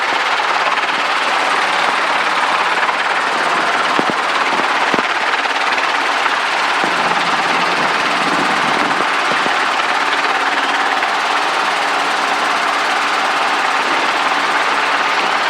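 A helicopter hovers in the traffic pattern at KCPM airport, its rotor and engine producing a loud, steady broadband roar that stays close and unbroken throughout, with a few faint thumps. No voices are heard.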